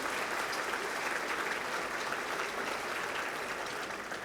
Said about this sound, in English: Let's have another round of applause for Philip Brunel and Vocal Essence.